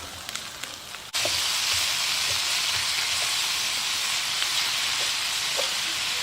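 Ground beef hits a pan of golden fried onions over medium-high heat, setting off a loud, steady broadband sizzle that jumps up suddenly after a quieter start and holds evenly close to the listener.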